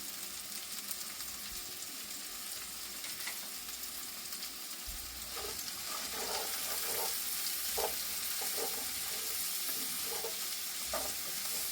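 Onions sizzle in coconut oil in a pan, a soft continuous frying hiss with a few light scrapes and taps of a utensil in the second half, fairly quiet and close.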